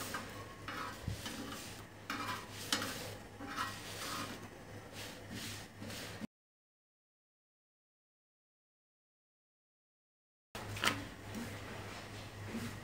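Roti being turned and shifted around on a hot tawa, with soft faint scraping and light sizzle in a quiet kitchen, broken by a silent gap.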